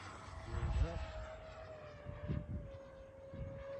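A Freewing MiG-29 RC jet's electric ducted-fan engine whines at a steady pitch in the distance, held around half throttle, while people talk nearby over the faint outdoor hum.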